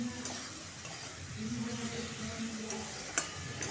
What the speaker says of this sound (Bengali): কষানোটা খুব ভালো করে কষাতে হবে।